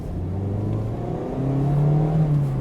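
A 2024 Mazda MX-5's naturally aspirated engine revs steadily with a smooth, rising drone that climbs in pitch partway through, loud and close with no sharp turbo whoosh.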